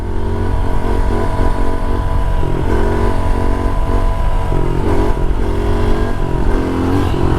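A modified pit bike engine held at high revs in fourth gear, a loud buzzing mid-pitched drone with small rises and dips in throttle running throughout, close up and without talk.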